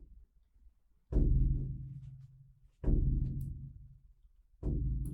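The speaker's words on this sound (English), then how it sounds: "The drumming of the heartbeat" A frame drum is struck in a slow heartbeat rhythm during an Earth Hour ceremony, three deep, resonant booms ringing out alone with a long decay between them.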